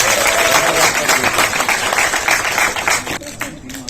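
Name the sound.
audience applause for prize winners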